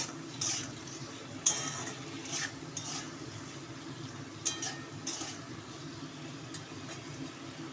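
A spoon stirs fish curry with papaya, salt and turmeric in a pan, making soft scrapes and a few light taps against the metal over a low sizzle.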